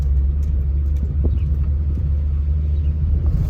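Steady low engine rumble and road noise from inside a manual car driven right after new Acuity shifter base bushings were installed, continuous and fairly loud with faint clicks and knocks, no talking.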